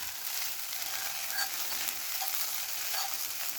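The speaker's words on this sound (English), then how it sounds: "I'll probably stir this a little longer before I drop those green onions in there" Bacon crab fried rice with eggs being stirred in a hot pan, a steady hissing sizzle with a few light scrapes of the utensil, close but quiet, no talk.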